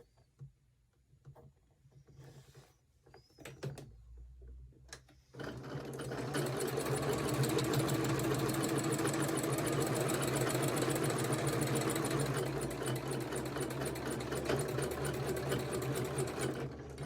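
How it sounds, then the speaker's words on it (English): Quiet handling and a few light clicks come first, then a sewing machine starts stitching a quilt sampler block and runs in a steady, fast, close whir until the end. "Then we'll sew this on"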